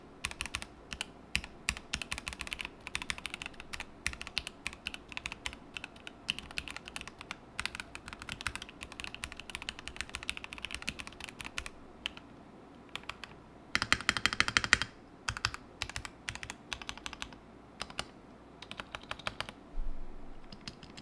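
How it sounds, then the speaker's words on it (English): Fast, continuous typing on a Mojo 68 mechanical keyboard, dense clattering keystrokes close up with a brief louder flurry near the middle, no voices. "I'm just gonna shut up and peck at the keyboard a little bit here."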